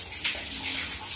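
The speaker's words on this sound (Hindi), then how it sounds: "इसको हम इसका पानी चालू करके आपको दिखा रहे हैं कि कितना प्रेशर है इस नल में" Water runs steadily from a newly fitted Jaguar wall mixer tap with slightly low pressure, giving a continuous close hiss and splash for the whole moment with no talking.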